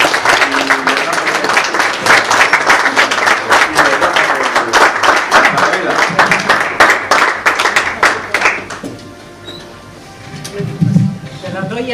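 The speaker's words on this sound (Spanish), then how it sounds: "Un aplauso para Eulogio, Juana." An audience at a forum on Hispanidad applauds two honourees, Eulogio and Juana, with steady, loud clapping for about eight seconds before it dies away; a voice is heard speaking as the applause fades.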